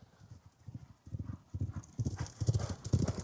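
Racehorses galloping past up close: rapid clip-clop hoofbeats swelling louder as two horses approach, with thudding, uneven footfalls and faint breathing.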